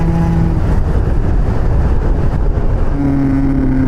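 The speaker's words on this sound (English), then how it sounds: "You pull the throttle and this thing sings" Yamaha BWS 125cc scooter engine droning steadily and loud throughout, with rising and falling tonal whine as the throttle is worked, revving up again near the end.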